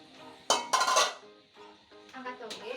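Metal utensils clink and clatter against a cooking pot as boiled bean sprouts are lifted out of the boiling water; a few sharp knocks are followed by softer scraping, close by and fairly quiet.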